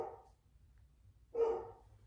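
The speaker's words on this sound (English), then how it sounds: "you can hear my dog barking." A dog barks twice: a short bark trailing off right at the start, then a louder, fuller bark about a second later over a low steady background hum.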